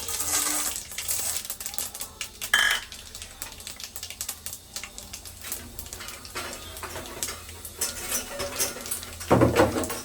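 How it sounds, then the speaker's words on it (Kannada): Mustard seeds crackling in hot oil, a dense run of small sharp pops and ticks that surges in bursts and settles between them, close and fairly loud with no talking. "ಸ್ವಲ್ಪ ಬಿಸಿ ಆಗಿರುತ್ತೆ ಸಾಸಿವೆ ಹಾಕೊಳ್ತಿದ್ದೀನಿ"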